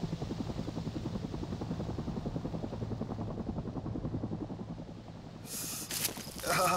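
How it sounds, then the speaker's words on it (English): A two-blade Cobra helicopter flies nearby, its rotor giving a steady rapid thudding chop at moderate loudness that fades slightly before a burst of louder noise near the end. "Thought it sounded like a Cobra. Sounded like a chopper two blade."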